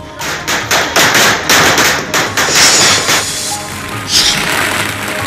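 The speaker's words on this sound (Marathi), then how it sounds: "निकालाआधीच उत्साही कार्यकर्त्यांनी फटाके फोडत जल्लोष केलेला आहे" Firecrackers burst at a Maharashtra assembly election celebration by party workers, a loud, rapid run of cracking bangs close by, followed by a brief pause and another burst.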